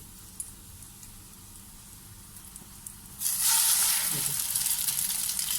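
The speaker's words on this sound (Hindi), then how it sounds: "अब आप ये देखें कि इस जगह पे अभी घी है, हम इसी में ही दूसरा पीस भी डाल देंगे" A slice of coconut French toast drops into hot ghee, and a loud, steady sizzle bursts out of a quiet background and keeps going.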